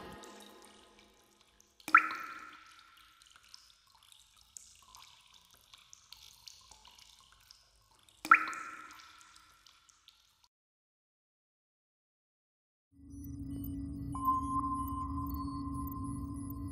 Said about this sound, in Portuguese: O pingo pinga, pinga sem parar.